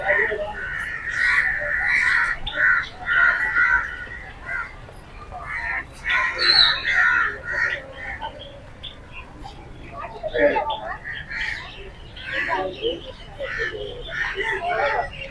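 Doves and finches in a zoo aviary at Lahore Zoo give off a busy scatter of chirps, calls and coos, fairly close, continuing throughout while a person talks over them.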